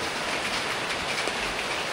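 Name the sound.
heavy rain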